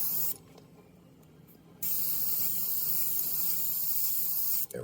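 Bursts of airbrush paint spray while painting cardinal feathers, a steady close hiss that cuts out briefly near the start, then resumes loud and continuous until a quick stop and restart at the end.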